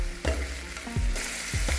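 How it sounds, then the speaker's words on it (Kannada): Tomatoes fry in a hot pan with a steady bright sizzle. Three or four scraping stir strokes cut through it at roughly even intervals. "ಈಗ ನೋಡ್ರಿ ಇದನ್ನು ಮಿಕ್ಸ್ ಮಾಡ್ಕೋತೀನಿ, ಅಂದ್ರೆ ಹುರಿತೀನಿ"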